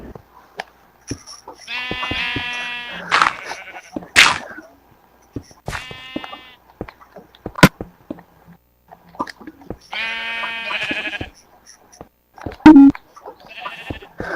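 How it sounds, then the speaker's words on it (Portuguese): Sheep in the video game Minecraft bleat several times in short, nasal bursts spread across the stretch, with scattered clicks and thumps of gameplay in between. "Uma ovelha, velho"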